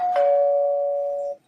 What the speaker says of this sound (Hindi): अब मैं जल्दी से जाके डोरबेल रंग करता